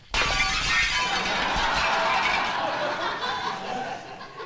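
A football crashes through expensive French windows, setting off a loud burst of shattering glass that rings and scatters for several seconds, with a little laughter mixed in.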